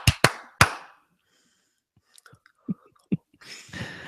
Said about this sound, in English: It's because you started clapping while I was still counting.